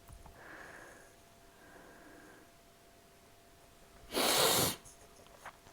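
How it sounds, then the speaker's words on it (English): A single loud, sharp sneeze bursts out near the close mic in a quiet room, preceded by soft nasal sniffs and followed by a faint brief sniff. "Sorry about my nasal stuff tonight. I have some sneezing."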